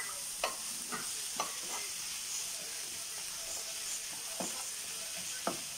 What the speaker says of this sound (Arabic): غادي نبقى نحرك بحال هكايا حتى كيطيبوا ليا